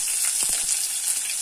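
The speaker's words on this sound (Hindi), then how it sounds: "अर्धने अर्ध स्पून तगोंडिबिट्टु ओंदु स्वल्प फ्राई आग्ता इदे" Cumin seeds sizzling in hot oil in a pan for a simple chicken gravy, a steady close hiss with a few soft crackles.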